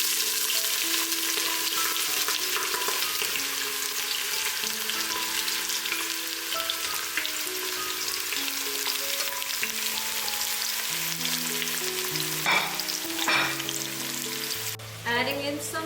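Fresh bay leaves, slit green chilies and sliced onion frying in oil with cardamom for chicken dum biryani, a loud continuous sizzle with background music playing and a few stirring knocks near the end.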